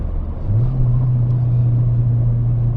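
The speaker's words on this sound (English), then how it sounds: "If I do it now, going down into second without rev matching" A Ford Fiesta ST180 drops into second gear without rev matching, the engine's low drone jumping abruptly to a higher, steady whining pitch that holds close and loud inside the cabin.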